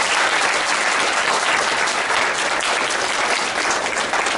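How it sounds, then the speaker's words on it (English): A campus event audience at a sustainability poster competition breaks into sustained, dense applause, clapping steadily and loudly for several seconds with no voices on top. "Liz Tomaszewski we need to give her a round of applause for her"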